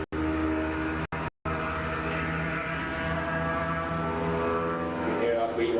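A 125cc racing motorbike at an Ulster Superbike Championship road race, rolling through a corner with a loud, sustained high-pitched engine note that holds steady after a couple of brief dropouts at the start.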